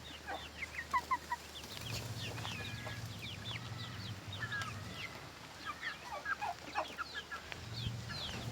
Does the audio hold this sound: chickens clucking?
yes